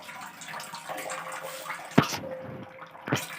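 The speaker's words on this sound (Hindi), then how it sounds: "ये थोड़ा सा गर्म पानी आ गया, देखिए" Hot water runs from a tap for washing a pile of dishes, a steady close splashing stream with a couple of sharper clatters, no talk.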